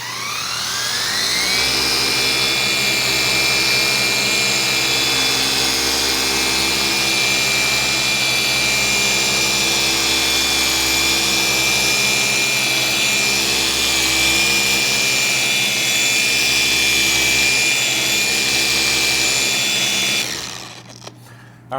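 Electric car polisher at speed setting 5 buffing scratches out of paint, a loud steady high whine that spins up at the start, holds constant for about twenty seconds, then winds down.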